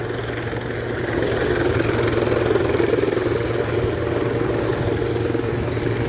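A forest-fire patrol helicopter flies over a burned hillside during a spring drought, its rotor and engine giving a steady, loud, continuous thrum with no talking.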